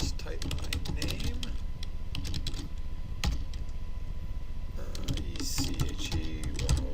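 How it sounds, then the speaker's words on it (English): Computer keyboard typing in quick irregular bursts of close, crisp clicks, pausing briefly in the middle before resuming, with speech alongside. "So just type my name"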